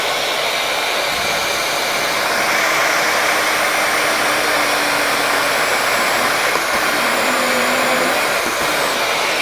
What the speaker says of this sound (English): the Forstner bit's struggling to go down